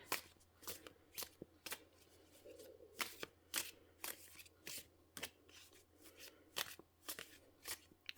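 A tarot deck shuffled by hand in a quiet room: repeated sharp papery slaps and riffles in an uneven rhythm, close and clear with no talking.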